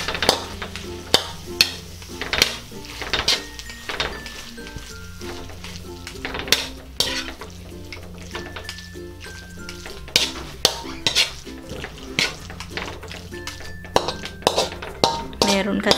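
Shrimp for cabbage rolls frying in a pan and stirred, with a rhythmic series of sharp clinks and scrapes of a utensil on the pan over a faint sizzle and background hum.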